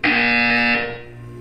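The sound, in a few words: buzzer in the video game Portal 2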